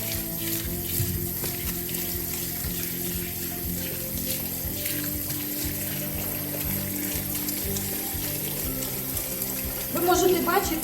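Running water rinses argan-based shampoo from a dog's coat during grooming, a steady broad wash with tonal music underneath and a louder splash near the end.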